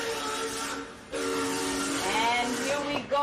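Voices imitate a toy train's steam whistle in a children's train game: a held hooting tone breaks off, then resumes with rising, warbling pitches and a short final toot, with no other talk.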